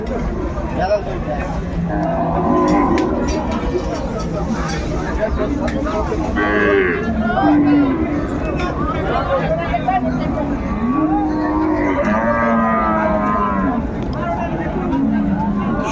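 Sahiwal cows at a busy cattle market, with low moos rising among dense crowd babble and steady chatter from nearby people throughout.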